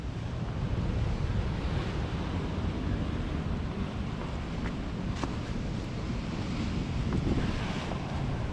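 Rough North Sea surf churning against a rocky Scottish shoreline, a constant loud roar of breaking waves mixed with heavy wind buffeting, with occasional sharper crashes standing out.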